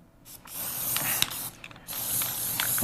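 Rust-Oleum primer sprayed from an aerosol can onto a metal surface: close hissing bursts with short pauses between them and a faint rattle at the start of each burst.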